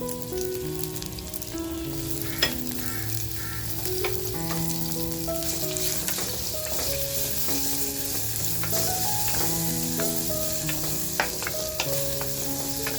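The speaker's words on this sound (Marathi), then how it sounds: "जे बोंबील धुवून घेतले ते फ्राय करून घ्यायचे" Bombil (Bombay duck) dried salted fish fry in oil with turmeric and homemade masala, giving a steady, even sizzle with light crackles, accompanied by soft melodic music.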